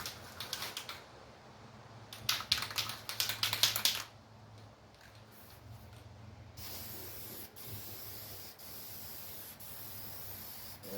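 An aerosol spray paint can sprays engine paint on a 1951 Chevy truck engine in short, loud hissing bursts, several quick ones early and a longer spurt, then a steadier, fainter hiss with small clicks.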